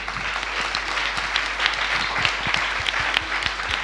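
A seminar audience at a Madrid university applauds loudly and close by, a dense continuous burst of many hands clapping with a low hum beneath.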